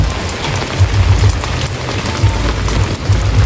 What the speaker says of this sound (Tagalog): Umuulan na naman guys.